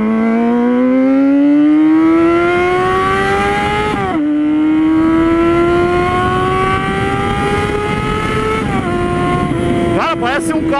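A four-cylinder motorcycle revving hard nearby, its pitch climbing smoothly through two long pulls with quick shifts between them, a loud racing-car-like howl from start to finish.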